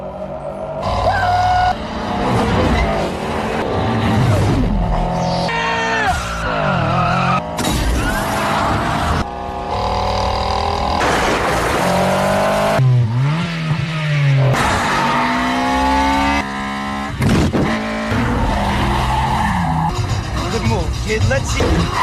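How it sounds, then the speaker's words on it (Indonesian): Race cars in a street race from a film, engines revving and accelerating with tires squealing and skidding in repeated bursts, loud and close, while voices talk. "Balapan pun dimulai dengan aba-aba dari Suki."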